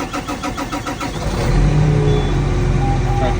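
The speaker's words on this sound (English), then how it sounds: "Tractor starts like normal." Tractor engine being cranked on a farm during harvest service: a rhythmic starter churn for about a second and a half, then the engine catches and settles into a loud, steady idle close by.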